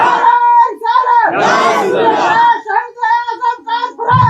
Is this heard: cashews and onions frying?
no